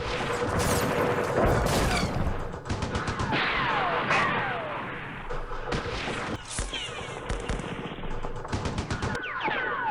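Recoilless rifle fire in the Campaign Series Middle East war game set in Yemen, loud sharp blasts and booming reports in irregular succession amid crackling gunfire and battle noise.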